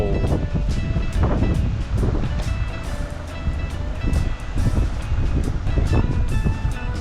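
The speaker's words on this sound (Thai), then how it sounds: "ได้ยินเสียงลมป่ะ ลมโคตรแรง" Strong, gusty wind buffets the microphone in a steady roar with surging blasts, a loud, constant rush and no voices, at a campsite viewpoint in Phu Ruea National Park, Loei, Thailand.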